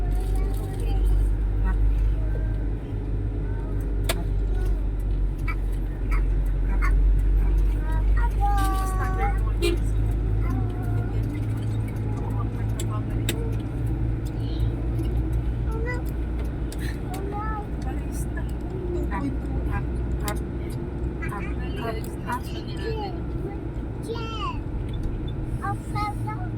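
A motorized tricycle on a road between Alitagtag and Lipa City, Batangas: a constant low engine rumble and road noise run throughout, mostly beneath people talking nearby.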